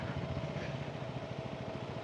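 A motorcycle engine drones steadily while riding through snow at high altitude in winter Spiti, a continuous low rumble with wind noise, no voices.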